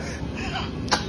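A child's single short cough stands out close by near the end, against a steady low room hum.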